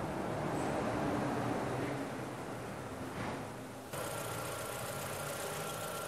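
Ford Zetec Rocan car engine idling with a misfire gives a quiet, steady low rumble with a slightly uneven beat, heard up close without talk.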